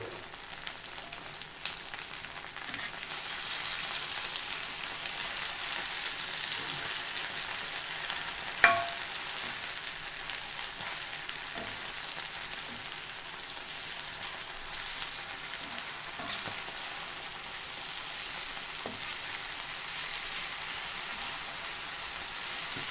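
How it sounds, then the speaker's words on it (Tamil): Chicken pieces frying in oil give a steady, even sizzle throughout, with one sharp clatter partway through as they are flipped and a few faint taps. "இப்போ வந்து நமக்கு சிக்கன் வந்து ஒரு பக்கம் நல்லா வெந்ததுக்கப்புறம் நம்ம திருப்பி போட்டுக்கலாம்"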